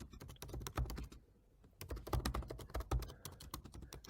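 Rapid, close typing on a computer keyboard, with a burst of keystrokes, a brief pause, then a second steady run of clicks, heard alone.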